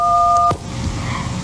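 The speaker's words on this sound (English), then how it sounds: "So when you push any key, you're combining the tone from its row in each direction." A telephone keypad's key 1 sounds its DTMF dual tone, a single steady loud beep lasting about half a second that cuts off with a faint click into quiet room noise.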